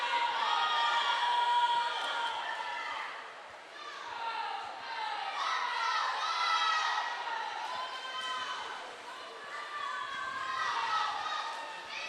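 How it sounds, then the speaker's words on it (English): Girls' high school swim teammates cheer and shout in an echoing indoor pool, a sustained chorus of high-pitched yells that rises and falls over several seconds, with talking mixed in. "Her teammates are at the end of the pool to cheer her on."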